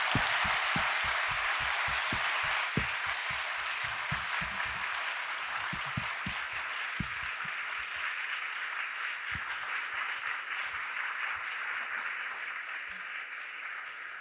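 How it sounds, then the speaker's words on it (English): A lecture hall audience gives sustained applause, dense clapping that holds steady for the full stretch and fades slightly near the end, with a few louder individual claps early on. "So let's just give Joey a big round of applause."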